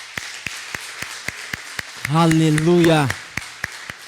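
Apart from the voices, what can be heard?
congregation applauding God in church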